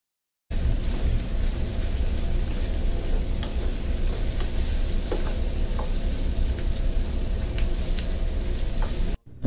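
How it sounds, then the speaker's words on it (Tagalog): Chinese sausage, ox tripe and beef skin sautéing in a pan, a dense, loud, continuous sizzle with faint scraping of stirring, starting abruptly and cutting off at the end. "isusute ko rin ng bahagya yung aking ox stripe at beef skin"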